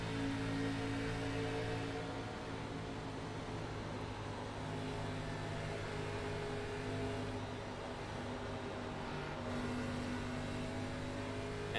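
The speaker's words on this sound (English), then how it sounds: "Let's have a look and a listen from the cockpit of Kyle Benson in car 10." A steady, droning engine hum heard from the cockpit of a race car in the iRacing sim at Kansas Speedway, holding a constant pitch with no voices over it.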